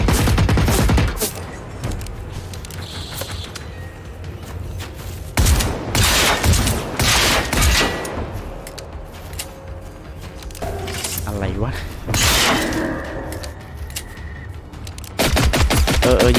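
Gunfire in Generation Zero is heard as loud, rapid automatic bursts and heavy shots, repeated in several volleys with mechanical sounds in between, while people talk excitedly over it.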